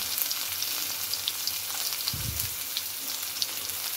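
Chopped onion frying in hot oil for a chicken curry with tomato sauce, giving a steady soft sizzle throughout, with a brief louder low burst midway as the pieces settle.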